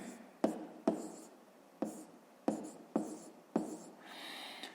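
Numbers written by hand on paper during a fifth-grade maths exercise, a series of short scratchy pen strokes in spaced bursts, close and clear, with no talking.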